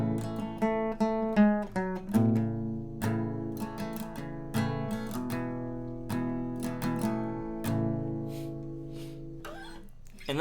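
Acoustic guitar in G plays a riff, with plucked open notes and strummed chords ringing clearly and alone at a steady moderate loudness.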